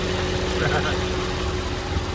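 A 2010 Mercedes-Benz G55 AMG with its hand-built 5.4-litre engine idles nearby, a steady low rumble with an even, continuous drone and faint vibration throughout.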